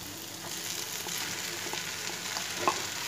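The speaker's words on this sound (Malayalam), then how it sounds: "ഇനി ഇതിലേക്ക് ഉരുളക്കിഴങ്ങ് ചേർക്കാം," Potatoes being stirred and fried in a turmeric masala for poori masala. A soft, steady sizzle runs throughout with light scraping stirs and a small clink near the end, close and quiet.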